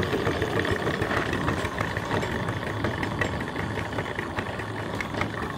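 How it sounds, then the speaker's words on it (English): A steam engine and boiler mounted on a trailer runs steadily, giving a continuous mechanical chugging rumble with dense rhythmic texture, close and even in level, with no talking. "Beautiful engine and boiler."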